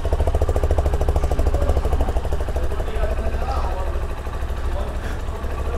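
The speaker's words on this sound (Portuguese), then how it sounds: "agora eu vou ligar ela para vocês escutarem o barulho." A Shineray SHI 175 EFI motorcycle engine idling in a shop, a steady, rapid, throaty putter running continuously at close range.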